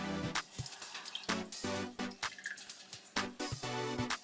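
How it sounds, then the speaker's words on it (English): Milk poured into a pot of boiled, drained potatoes gives close, quiet splashes and glugs in uneven spurts, with soft drip-like bursts and short pauses between them. "So now I'm gonna do the milk"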